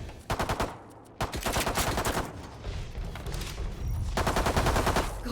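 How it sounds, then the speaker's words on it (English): Rapid automatic gunfire from video game weapons rattles in loud repeated bursts, with a brief lull before the firing picks up again and carries on densely to the end. "Why is this guy fucking unloading his weapons already?"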